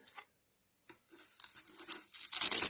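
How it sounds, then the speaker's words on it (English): Gaffer tape torn off the roll during a Dalek prop build, a short rip, a pause, then a longer rising ripping stretch growing louder toward the end, close and alone. "just tape it on with some, some gaffer tape"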